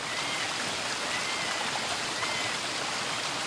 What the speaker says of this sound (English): There is a really peaceful area by the waterfall